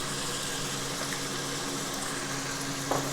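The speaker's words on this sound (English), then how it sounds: "Oh, splatter." Ingredients for pork adobo, including cracked peppercorns, sizzle and spatter steadily in a cooking pot, a constant close hiss with a brief louder pop near the end.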